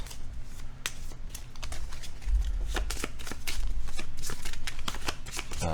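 Board game cards shuffled by hand at a table during a Flame & Fang playthrough, a steady run of close, crisp riffling and snapping card clicks with no talk.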